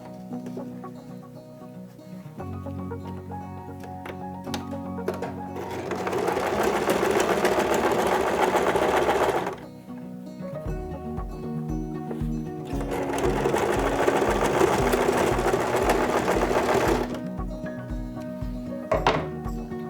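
A sewing machine stitches down the sides of a fabric doll's face in two steady, loud whirring runs of several seconds each, with a quieter hum and pause between them.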